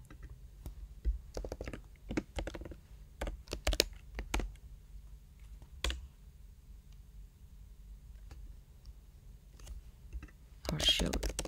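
Someone types a password on a computer keyboard in a quiet room, with scattered individual key clicks and short bursts of tapping, then a faint pause and a final quick flurry of keystrokes.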